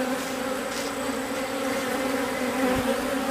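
A honey bee swarm, taken from an apple tree and now housed in a hive, buzzes as a steady, close, continuous hum with no breaks.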